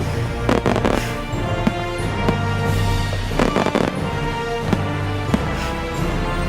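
A fireworks compilation playing back, with dense crackling bursts and booms going off continuously and loudly, and no talking.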